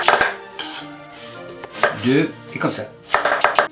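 A knife chops through an onion in a bowl while cooking a sauce, giving several crisp, close cuts and board knocks, with someone talking in French between the strokes.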